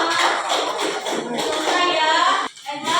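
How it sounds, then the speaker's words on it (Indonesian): Students in a junior high science class clap together after finishing a lesson; scattered hand claps and shuffling mix with children's voices and classroom noise, close by. "Beri tepuk tangan untuk kita semua."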